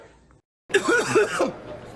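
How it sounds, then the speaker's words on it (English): A single rough throat-clearing cough, close and fairly loud, following a brief moment of silence. "It's just a cough."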